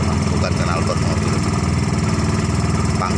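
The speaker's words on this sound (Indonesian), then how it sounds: "Suaranya masih suara mesin motor, karena memang pakai mesin motor dan knalpotnya hanya pipa" Small car fitted with a motorcycle engine and a plain bent-pipe exhaust, running close and loud with a steady, dense, pulsing rumble throughout, and a voice talking over it.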